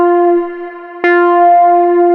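Moog Source synthesizer oscillators drive the filter hard, giving a buzzy, harmonically rich sustained tone with gritty edges, briefly dipping in level before a sharp retrigger renews it.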